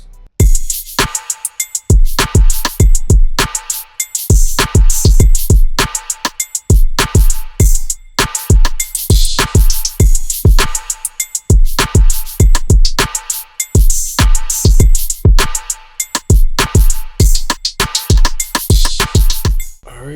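A loud, punchy drum beat loops steadily, with deep kick hits, crisp snare and stacked rim clicks in a tight repeating groove.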